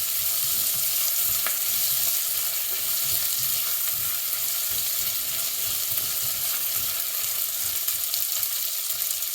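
Minced garlic frying in a paneer makhani gravy with vinegar, giving a loud, continuous close sizzle that stays even throughout with no speech.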